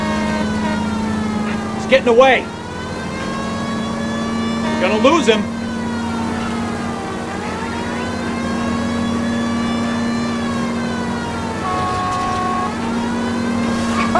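Car engines rev and whine in a street race chase through city streets in the game L.A. Noire, a steady growling drone with shifting pitch as gears change, heard under urgent voices that speak over it.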